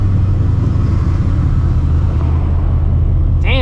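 Supercharged New Edge Mustang GT with a 700 hp setup during a downshift: a loud, close engine rumble and drone inside the car, steady and heavy, with a brief higher whine at the very end.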